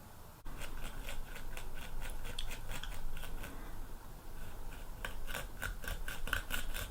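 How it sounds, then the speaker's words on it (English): A pencil scrapes a heart-shaped design into cuttlefish bone as a casting mould for pewter. It makes soft, close, dry rasping strokes in quick irregular bursts, quiet and alone, with a tight cluster of strokes near the end. "I'm just starting by edging around this heart, just giving it a little scrape into the cuttlefish"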